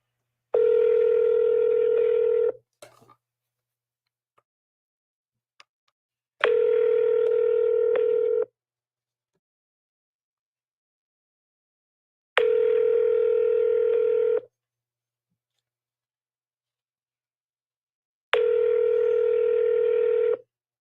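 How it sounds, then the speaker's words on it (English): Four long telephone tones of about two seconds each sound during a call transfer on a phone line, evenly spaced by gaps of near silence, loud and clean, with a few faint clicks between them. "Wait while I transfer your call."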